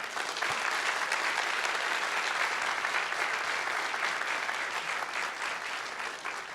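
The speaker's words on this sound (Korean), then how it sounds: "자, 그럼 지금부터 미래 성장과 일자리 창출을 위한 디지털 경제 국가 전략 문재인 대선 후보 초청 포럼을 큰 박수와 함께 시작하도록 하겠습니다." An audience gives a big round of applause to open a forum on national digital economy strategy with an invited presidential candidate. The clapping is thick and continuous, close and loud, and eases slightly near the end.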